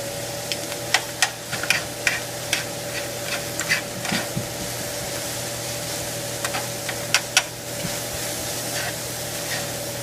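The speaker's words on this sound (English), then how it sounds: "Turn on our fan here, it's going to get loud." A kitchen exhaust fan runs loudly and steadily over a stovetop, its constant hum and airy hiss filling the room while faint clicks and small kitchen noises come and go.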